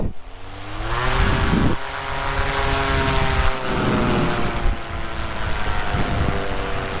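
A paramotor engine revving up loud and close during takeoff, a steady droning whine with rising and shifting pitch, heavy wind buffeting the microphone.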